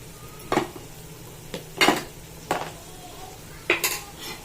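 Cumin, mustard and fenugreek seeds are mixed in a pan for gongura pickle, with four distinct scraping, clinking strikes of a spoon against the pan, close and fairly quiet, with no talk.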